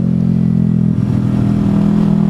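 A motorcycle engine thrums steadily while being ridden, a loud, close, continuous low rumble with a slight shift in tone midway.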